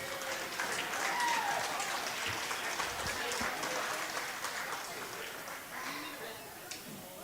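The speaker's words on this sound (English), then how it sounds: "Let's give them all a round of applause." A crowd at a high school wrestling match applauds steadily for about seven seconds, a dense, fairly even wash of clapping with no voices standing out above it.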